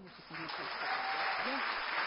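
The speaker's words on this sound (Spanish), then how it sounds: "Recibamos con un fuerte aplauso" Applause from an audience at a business event swells in after a moment of speech and carries on as dense, steady clapping, with a voice briefly heard at the start.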